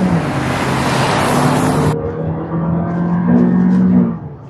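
A 2024 Jetour Dashing SUV engine drones steadily up close, its pitch climbing as it accelerates from 0 to 100 km/h, with a loud broadband rush easing after the first couple of seconds.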